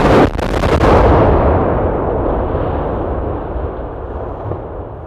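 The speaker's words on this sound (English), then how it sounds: "But you got the explosion, right?" One powerful bridge demolition blast booms out, followed by a long rumbling roar that slowly fades away.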